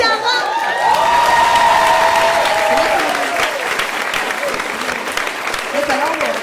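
Loud, sustained audience applause fills a comedy stand-up show, a dense wash of clapping lasting several seconds. Voices call out and laugh above it throughout.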